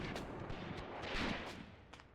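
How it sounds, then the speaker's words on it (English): Rapid small-arms gunfire in a WW2 video game battle at a Soviet farm, shots crackling fairly steadily at mid distance with a slight swell near the middle, no talk. "A lot of bullets in the air now going towards this one Soviet."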